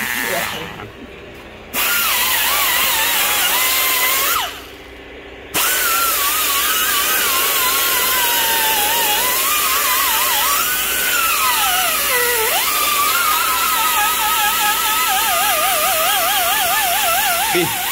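Power tool cutting through the lug nuts on a Ford truck chassis with a Cummins engine swap, a loud continuous whine with shifting, warbling pitch, broken by two brief pauses.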